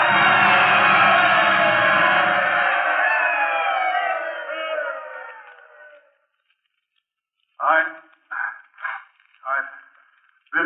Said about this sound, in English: And the crowd rose to its feet and they told him they loved him.